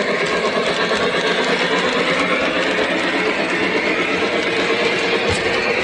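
A Lionel model train runs around a layout with a continuous, even rumble and faint rhythmic clatter, fairly loud and steady throughout with no voices.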